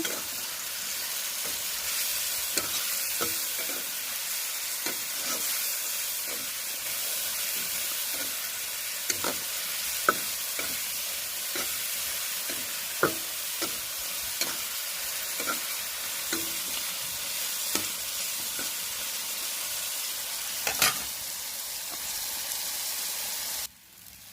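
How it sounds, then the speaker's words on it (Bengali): Dried hilsa fish fries with onions and spices in a hot pan, a steady close sizzle punctuated by frequent stirring clicks and scrapes throughout, with no voices. "এখন সব মশলা পেঁয়াজ আমি দিয়ে দিচ্ছি, এখন শুটকিগুলো দিয়ে দিব।"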